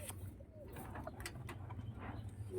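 Pet pigeons in a home coop cooing softly in low, rounded calls, faint and a little distant over a quiet hum of the surroundings.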